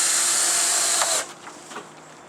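A power drill drives a screw into plywood, a steady high whirring run that stops abruptly after about a second, followed by a few faint clicks and handling sounds.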